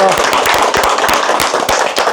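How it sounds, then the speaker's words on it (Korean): Applause closing a televised interview with the Incheon mayor, a loud dense clatter of many hands clapping steadily throughout. "박수로 마무리할게요"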